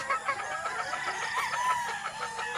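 Gamefowl broodstags crow and cluck at a game farm, with several overlapping calls at moderate distance over a continuous busy background of birds and no talking.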